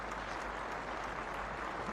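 An audience applauds a caller on a paranormal and supernatural open-line show, a dense, steady wash of clapping that holds evenly for a couple of seconds.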